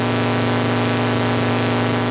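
A steady hiss of white noise through a resonant low-pass filter, a few emphasized resonant tones ringing through, loud and unchanging, ending with a brief rising whistle.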